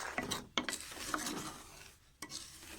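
Semolina dry-roasting in a pot over low flame, soft scraping and rasping stirs in short strokes, close and fairly quiet with no talking.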